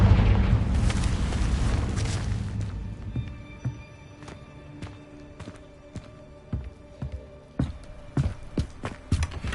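Confringo blasting spell from Hogwarts Legacy goes off in a loud, roaring burst lasting a couple of seconds, then fades into quieter game sounds with a string of sharp, footstep-like taps.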